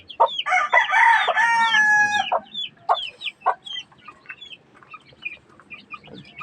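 Basilan chickens, a mother hen with her chicks, give a loud, close burst of raucous calling, then a scatter of clucks and thin high peeps that taper off.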